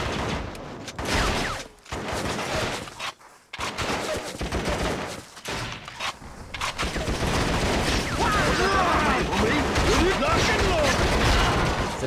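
Heavy machine gun firing in the PS2 war game Shellshock: Nam '67, bursts broken by short gaps and then a long, loud, continuous stream of rapid fire, with a voice talking over the early part.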